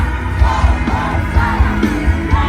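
A large crowd at a political campaign rally in Paranaque City yells together in loud rhythmic chanting and shouting, a massed roar with pulsing bursts over a boomy outdoor bed.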